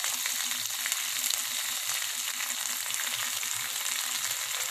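Onions sautéing in a pan for bean toast, a dense continuous hiss of frying with a soft low bubbling underneath, close and unbroken, with no voices.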